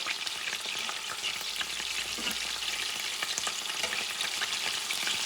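Petite sirloin steaks fry in a pan just after flipping, a dense, steady sizzle and crackle close up, loud and continuous with no voices.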